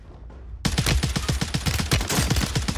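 Rapid gunfire from the DTIR rifle in Warzone 3 on Rebirth Island, a loud, steady burst of evenly spaced shots that starts abruptly after a quiet moment and runs continuously without any talking.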